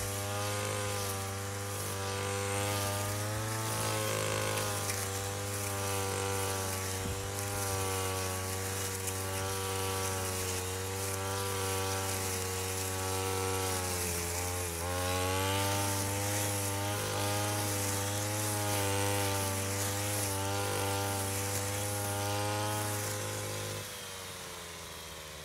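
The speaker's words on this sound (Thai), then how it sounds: "อันนี้ก็คือสามารถตัดหญ้าทั่วไปได้เลยนะครับ" A grass trimmer fitted with a 2-in-1 blade cuts ordinary grass, its engine holding a steady, buzzing drone at close range for about twenty-four seconds before cutting off.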